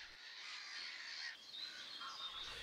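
A breeding colony of cormorants calls continuously, with many overlapping harsh squawks and croaks forming a dense, steady chorus at moderate distance, with no talking.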